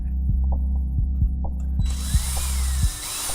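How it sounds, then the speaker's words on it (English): Power drill driving a screw into a macropad on a workbench, a short burst of motor whine after a series of rhythmic low thumps, close and fairly loud with no talk. "I'm gonna use the drill because it's faster"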